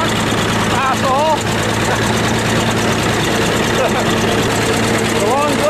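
A bulldozer driving on a snowy farm, its diesel engine running with a loud, steady rumble and clattering vibration throughout, with people talking over the noise.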